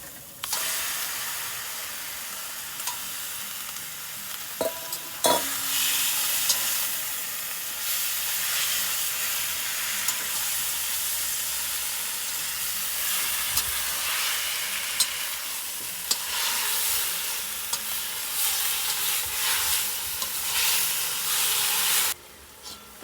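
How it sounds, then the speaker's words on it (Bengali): Boiled taro greens going into dried shrimp frying in a pan, giving a sudden loud close sizzle and hiss that holds steadily for about twenty seconds before cutting off, with no voices. "চিংড়ি সুটকিটাও একটু এর মধ্যে ভাজা ভাজা করে নিলাম এখন এই তো শাকের যেটা সিদ্ধ করে রাখা ছিল সেটা দিয়ে দিচ্ছি"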